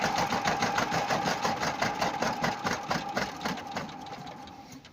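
Diesel walk-behind tractor engine fitted in a homemade ZAZ 968M car, knocking rhythmically at idle and loud and close, slowing slightly and fading a little toward the end as it is shut off.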